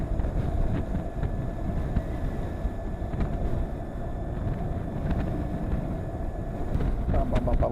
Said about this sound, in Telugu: గాలి మాత్రం ఒక రకంగా వేస్తుంది